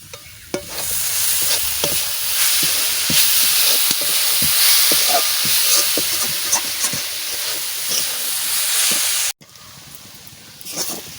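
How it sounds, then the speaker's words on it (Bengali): Grated coconut frying in a pan with a steady, loud sizzle and repeated scraping stirs, broken by a brief cut near the end before the frying resumes more quietly. "দেখো নারকেল আমার ভাজা ভাজা হয়ে গেছে এবার নামাই দিচ্ছি"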